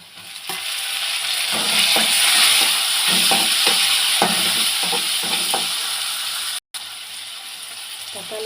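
Onion and tomato sautéing in a pan for a vegetable curry with broad beans, brinjal and potato, a steady close sizzle broken by repeated stirring scrapes, with one brief dropout near the end.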